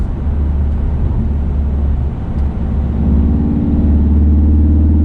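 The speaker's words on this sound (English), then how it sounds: "Put your foot into it. Yeah, it's really drony." A VW Golf R MK7.5 with 300 hp and all-wheel drive accelerating hard, a loud steady low engine drone inside the cabin that swells slightly as revs climb, with no talking.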